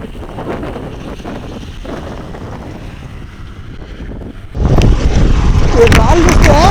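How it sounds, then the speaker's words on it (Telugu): Strong wind roars against a cyclist riding on a long-distance journey past rocky hills, steady buffeting that surges much louder partway through and keeps rumbling without a break. "గాలి ఒకటి చంపుతా ఉంది, నన్ను ఎట్లే వెనకాల తోస్తా ఉంది."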